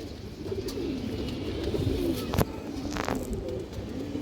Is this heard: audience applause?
no